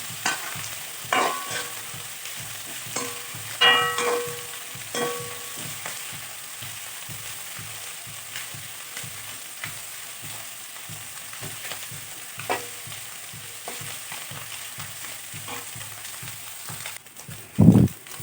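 Netholi anchovy roast sizzles softly in a pan while a spatula stirs it in a regular scraping rhythm, close and fairly quiet, with a louder clatter near the end.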